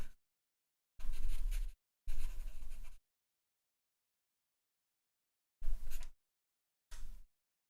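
Pastel pencil strokes on paper laying gray over earlier color, heard as four separate bursts of close, scratchy scribbling with silent pauses between them.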